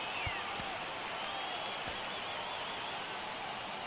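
Steady stadium crowd murmur with faint scattered cheering from a baseball game in MLB The Show 23, a continuous ambient wash from start to finish.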